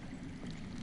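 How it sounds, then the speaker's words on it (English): Underground water flowing in the Game of Thrones video game, a steady dense rushing wash that fills the short clip with no pauses. "I hear water. From underground."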